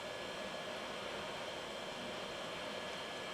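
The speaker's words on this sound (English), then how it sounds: "crank up the heat gun. Just do that heat shrink." Heat gun blowing hot air to shrink heat shrink tubing over a repaired AKG headphone cable connection: a steady, close, loud broadband whoosh that holds unchanged throughout with no pauses.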